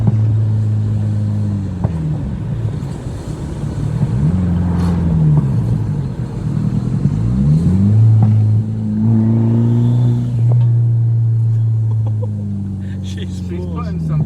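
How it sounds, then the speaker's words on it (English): Boost pipe leak on a big-turbo 1.8T engine with 400,000 miles, heard as a loud engine revving and hissing under load from inside the car, rising and falling in pitch, with people talking over it. "Hose leak. Hear it? Yeah, that's a boost pipe."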